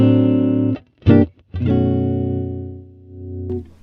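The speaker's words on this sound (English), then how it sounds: "Now, if I just play a chord," An electric guitar chord rings out through a Lekato WS-80 wireless system, sustaining and fading, then is struck again with a short choppy strum before a long held chord decays into a fresh attack; no voice.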